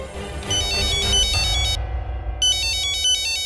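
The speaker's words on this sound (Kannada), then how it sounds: "ಅಣ್ಣ ಫೋನ್ ಮಾಡ್ತಾ ಇದ್ದಾರೆ" A phone ringtone plays loud and close for an incoming call, a bright repeating electronic melody in bursts with a short pause between them.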